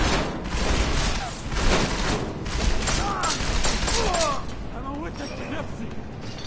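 Gunfire in Deus Ex: Mankind Divided: a dense burst of sharp shots early on, then rattling mechanical game noise, fairly loud, with a voice faintly present underneath.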